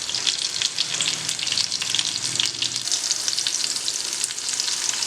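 Spices, garlic and cumin sizzle steadily in hot oil in a home kitchen, a tempering for chicken Peshawari curry: a close, continuous crackling fry with occasional stirring, and no voices.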